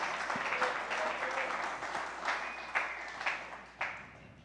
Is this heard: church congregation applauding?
yes